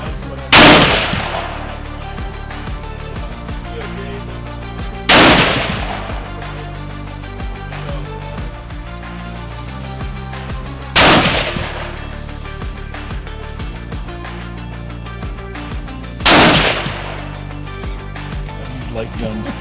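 Light guns firing at an outdoor shooting contest, four loud single shots spaced about five seconds apart, each sharp crack trailing into a long echo over faint background hum.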